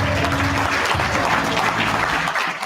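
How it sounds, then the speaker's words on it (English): A crowd bursts into loud, dense applause that holds steady throughout before tapering slightly at the end, at a live seminar event. "Give Des a round of applause, guys."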